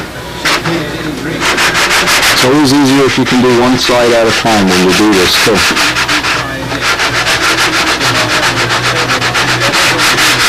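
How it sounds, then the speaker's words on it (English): Steady rhythmic rasping of a sanding block rubbed back and forth over wood, with someone talking over the scraping. "then you can just kiss that whole thing off with a long sanding block"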